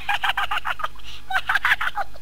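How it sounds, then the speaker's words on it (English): A gremlin's run of rapid, high-pitched chirping bursts forms a chattering, laugh-like call, pausing briefly before a second burst of the same squeaky cackle. "he heard a strange chirping laugh coming from the back of the shop"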